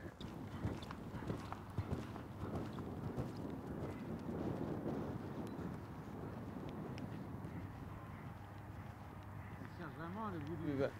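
A mare's hoofbeats come in a steady, moderately close rhythm during a riding session, while someone talks over them in French throughout.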